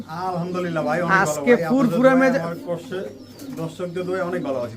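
Pigeons coo in low, rolling murmurs, mixed with people talking nearby, the cooing layered closely under and between the voices.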